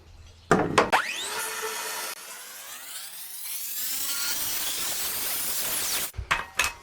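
A Husky track saw rips a plywood sheet: the motor spins up with a sharp burst, then settles into a sustained loud cutting whine as the blade runs through the wood, before winding down and clunking to a stop.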